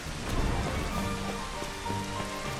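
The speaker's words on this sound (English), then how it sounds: "It is now raining." Rain falling in the game Final Fantasy XV, a steady dense hiss of drops on surfaces with soft game music tones underneath, constant and fairly close throughout.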